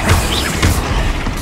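A Confringo spell fires in Hogwarts Legacy as loud, dense blasts, with two sharp bursts inside a sustained roar of game effects.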